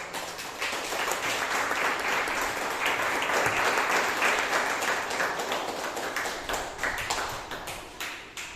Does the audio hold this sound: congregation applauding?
yes